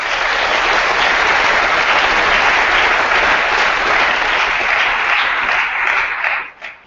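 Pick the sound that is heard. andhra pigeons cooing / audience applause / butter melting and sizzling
audience applause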